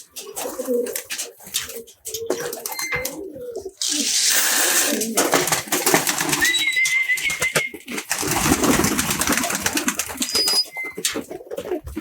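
Pigeons coo outside a loft, low soft calls repeating through the first seconds and then fading under a steady broadband hiss and scattered thin bird notes from the surroundings.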